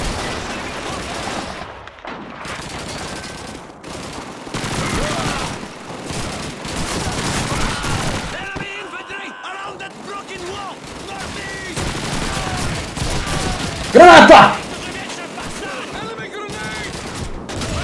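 Gunfire and grenade blasts in a Call of Duty 2 battle, with dense rattling shots running throughout and a louder burst near the end, while a voice talks over the action.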